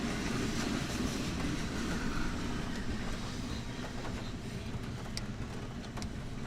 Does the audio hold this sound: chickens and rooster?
no